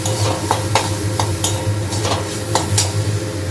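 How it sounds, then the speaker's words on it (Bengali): Oats stirred in a hot pan with black pepper, a spoon scraping in steady rhythmic strokes over a continuous sizzle, close and loud, with no one talking. "দিয়ে এগুলোকে ভালো করে নাড়বো"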